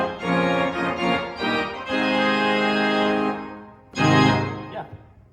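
A pipe organ on its full swell division sounds loud, sustained and reedy, with a full-bodied chord held for several seconds, a brief dip, then a shorter loud chord returning at the end.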